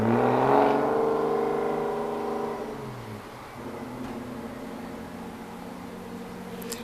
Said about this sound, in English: that was just some crazy car over there making so much noise